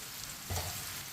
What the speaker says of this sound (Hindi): अब इसमें फ्राई की हुई भिंडी डाल लेंगे